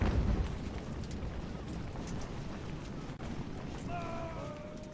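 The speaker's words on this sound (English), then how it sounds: "at least they're firing canister at those guys" Cannons fire canister shot in the game Ultimate General: American Revolution, with a heavy boom at the start fading into a dense, distant rumble of battle noise, and a few brief tonal calls near the end.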